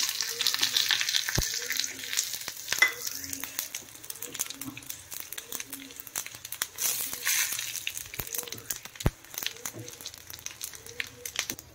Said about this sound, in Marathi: खडा मसाला आहे सर्वच, ते टाकून याच्यात भाजून घ्यायचा आहे।